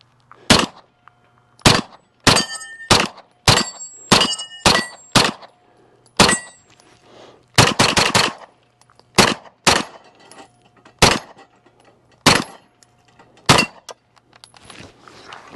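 A CZ Scorpion 3+ straight-blowback pistol fires about twenty rounds in irregular bursts of single shots and quick pairs, each a sharp loud crack, with short gaps between and a faint background hum, no talking.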